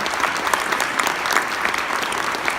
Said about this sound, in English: let's give Scott a round of applause and welcome to our organization